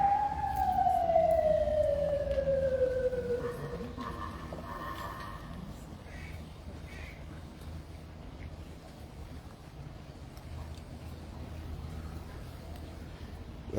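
A distant siren wails, its pitch sliding steadily downward before fading into a constant wash of wind noise.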